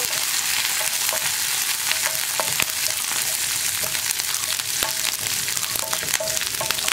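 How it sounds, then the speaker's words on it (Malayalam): Chickpea curry base with curry leaves sizzles in a pan while a spoon stirs it, scattered clinks and scrapes over a constant close frying hiss, no speech. "കറിവേപ്പിലയും ചേർത്ത് നന്നായിട്ട് ഇളക്കുക."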